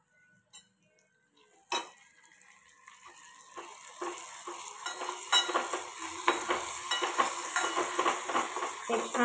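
Turmeric, asafoetida and chopped coriander fry in hot oil in a pan for a khichdi tempering, the sizzle building steadily with scraping stirs and a few sharp utensil knocks near the start, no voices.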